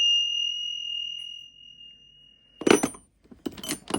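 A pair of Tibetan ting sha cymbals on a home altar rings as a single clear, high, sustained tone that slowly fades, followed by close, busy clinking and rustling handling noise.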